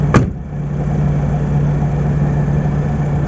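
Car engine idling, heard from inside the car with the doors and windows shut: a steady low hum that stays even throughout. A brief knock or click comes right at the start.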